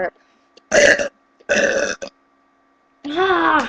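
Several long, loud, voiced burps in close succession, each lasting under a second, with a short pause between the first two and a longer gap before the last, drawn-out one; a voice is heard faintly at the very start.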